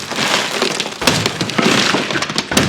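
A wall is smashed down during a wedding scene in a TV drama, a loud crashing burst of breaking wood and splintering debris with repeated cracking impacts, close and harsh.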